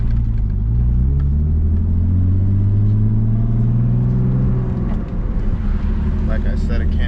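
A turbocharged BMW E30 engine runs and drives with a deep, low steady drone and gentle rising pitch, loud and close, while someone talks over it.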